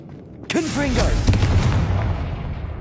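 Confringo blasting spell from Hogwarts Legacy, a magical explosion in a video game: a sudden loud boom that rolls into a broad, rumbling blast and slowly fades, with a voice sounding over the start.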